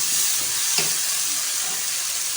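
Spices and masala fry in a pan for a halwa puri and chana dish, giving a steady, loud sizzling hiss throughout with a faint stirring scrape, and no voices.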